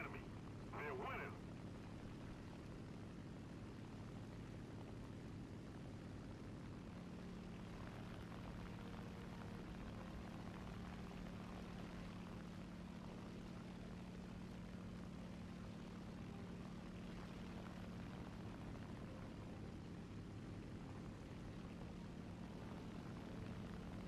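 Steady propeller aircraft engine drone from a War Thunder battle, a constant low hum running throughout at moderate distance, with game sounds layered over it.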